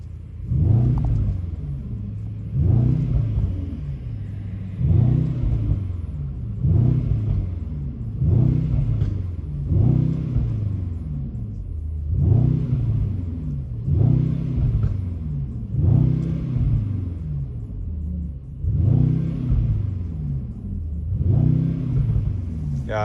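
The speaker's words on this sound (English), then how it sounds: "I will start up the car with an emotion start" Exhaust of a 2020 Mercedes-AMG E63 S in Sport Plus, a deep throbbing burble that swells and falls in regular pulses, loud and close, with no voices.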